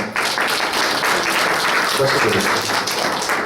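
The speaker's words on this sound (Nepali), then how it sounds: "हामी उहाँलाई ताली बजाएर स्वागत गर्नेछौँ।" A church congregation claps in welcome, sustained dense applause filling the room evenly from start to finish.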